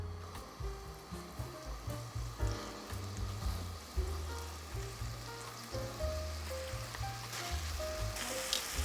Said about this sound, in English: now we're gonna take out our shrimp and we are gonna set it right in this pan